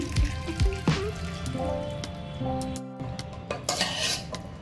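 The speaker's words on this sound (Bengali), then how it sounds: "যে জলটা আছে ওটা ফেলে দিচ্ছি" Hot water drained off steamed green peas in a kitchen, with clattering pots and utensil clinks over a steady trickle of water, a few sharp knocks near the start.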